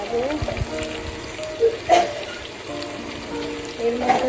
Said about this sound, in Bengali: আলুগুলোকে দিয়ে দিলাম, হালকা করে একটু ভেজে নেব।